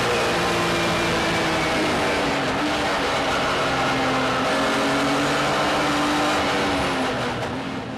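A BMW race car with a freshly prepared KMS Motorsport engine, racing at the 24 Hours of Dubai in 2008, holding a loud sustained engine roar with shifting pitch as it accelerates and changes gear, close and continuous.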